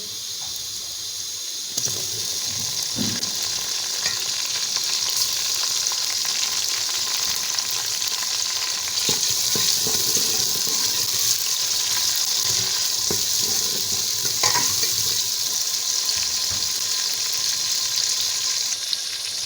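Chopped onions, tomatoes and green chillies sizzle and fry steadily in a pan while cooking a Pakistani lonak daal curry, with occasional stirring scrapes and clinks, close and continuous with no talk.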